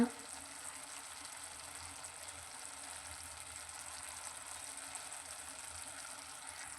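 Tomato curry ingredients with ginger-garlic paste and coriander frying in a pan while being stirred, a steady soft sizzle that runs evenly throughout, fairly faint, with no talk.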